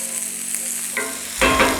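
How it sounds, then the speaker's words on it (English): Food sizzles steadily in hot oil, then the hiss swells suddenly louder near the end, as if more goes into the pan. No talking. "Give it a minute to just sizzle here."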